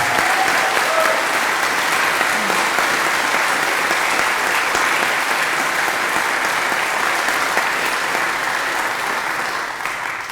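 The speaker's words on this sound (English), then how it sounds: "he deserves a huge round of applause" Loud, sustained applause from a convention audience fills the room in a dense, even wash of clapping that holds steady and tapers only slightly at the very end.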